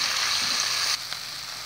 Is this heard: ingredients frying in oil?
yes